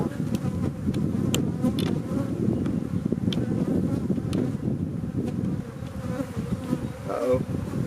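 Honeybees buzzing around an opened weak hive with frames of brood, a dense, close, continuous drone from many bees with individual bees zipping past the microphone.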